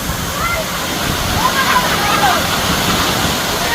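Steady rushing roar of a waterfall at Dinkey Creek, a continuous full wash of falling water close by with no pauses.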